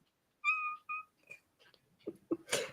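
A cat gives two close, clear meows, one longer and one short, followed by softer sniffs and breathy noises and a final rustling burst.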